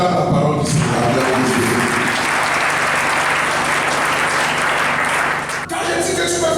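A church congregation applauds during a sermon, a dense, steady burst of clapping that holds for several seconds and then ends abruptly, with a brief voice before and after.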